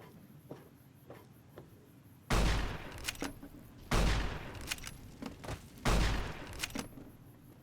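Shotgun blasts in Fallout: New Vegas: three loud, booming shots about two seconds apart, each followed by a short rattling tail, over quiet ambient background with faint clicks before the first.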